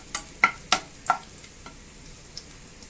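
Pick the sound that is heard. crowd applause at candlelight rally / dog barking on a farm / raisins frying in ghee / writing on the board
raisins frying in ghee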